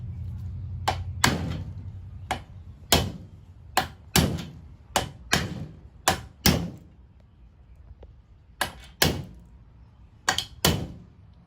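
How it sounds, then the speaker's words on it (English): Metal roof rack basket bracket being hammered into place on a Toyota 4Runner, a series of about fifteen sharp, irregularly spaced knocks and thuds, close and loud, with no talk. "Then hammer the other end in."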